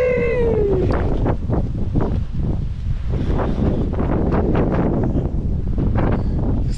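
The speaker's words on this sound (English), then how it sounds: "It's like the wind's picking up." Afternoon wind in Sausalito buffets the microphone with loud, continuous gusting roar and rumble, briefly preceded by a faint high whine.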